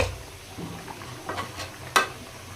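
Spice paste with chili powder fries alongside flat beans in a pan, a low sizzle under intermittent stirring scrapes with a sharp utensil clack near the end.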